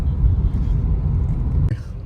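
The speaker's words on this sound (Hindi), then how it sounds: "बॉम्बे का भी मॉर्निंग ट्रैफिक जो है वो इट इज ऑल क्योटिक यार" Morning city traffic in Mumbai, a steady low rumble of cars and engines close by, with a brief sharper noise near the end and no clear voices.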